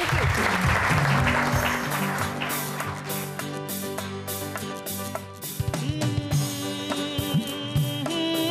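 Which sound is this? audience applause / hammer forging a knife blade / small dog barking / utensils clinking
audience applause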